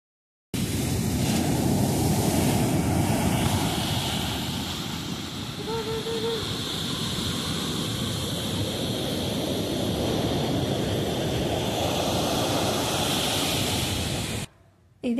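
Steady broadband roar of sea waves and surf at Nilgiri beach near a Chennai fish market, loud and continuous with wind-like wash throughout, close and unbroken until it cuts off near the end.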